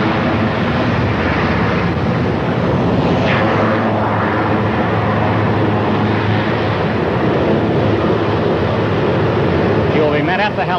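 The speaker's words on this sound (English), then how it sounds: "President's helicopter taxiing to a stop." Presidential helicopter taxiing to a stop, a loud steady broadband engine and rotor roar that fills the whole stretch without letup, recorded on an old 1963 newsreel soundtrack.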